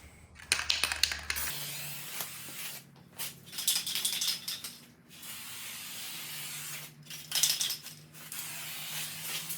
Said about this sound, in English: we'll spray a second coat of clear coat